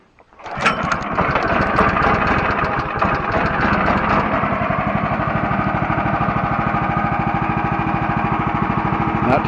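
Woodland Mills HM130MAX sawmill engine pull-started once and catching right away, then settling into a loud, steady, close chugging idle.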